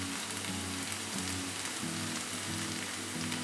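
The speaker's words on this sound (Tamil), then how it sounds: "கேரட் ஆட் பண்ணுறேன்" Carrot pieces drop into a hot pan of tomato rava bath base, setting off a steady, loud sizzle of frying with faint crackle throughout.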